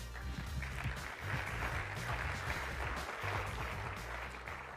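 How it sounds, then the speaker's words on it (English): Audience applause for judges at a startup competition on a tech conference stage, a sustained, even roar of many hands clapping in a large hall, with a low musical undertone beneath it. "Give these judges a round of applause."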